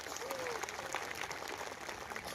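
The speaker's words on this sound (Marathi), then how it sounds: "आपण एकदा सगळ्यांनी जोरदार टाळी वाजवून सांगा साहेबांना" A crowd at a political rally breaks into applause, a dense, even wash of clapping heard at a moderate distance and fairly soft throughout.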